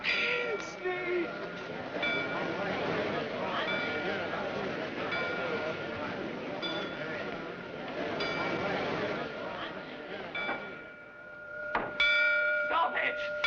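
Church bells clang and ring repeatedly amid a busy, rumbling background with voices, growing sharper and louder near the end.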